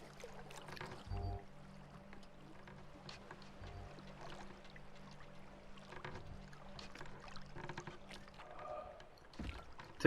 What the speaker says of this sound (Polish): Łódka.